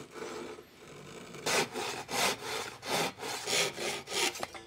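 Hand saw cutting through wood at a beginner woodworking bench: about seven steady, evenly spaced rasping strokes, close and clear, each a broad hissing push, following a quieter stretch of faint bench noise.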